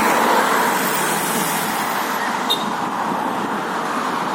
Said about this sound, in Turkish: Şimdi şu gelen kamyon.